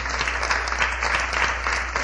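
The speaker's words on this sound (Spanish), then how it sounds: "¿Por qué no le da un aplauso al Señor usted," Church congregation claps in dense, continuous applause, a close and steady wash of many hands with no voices over it.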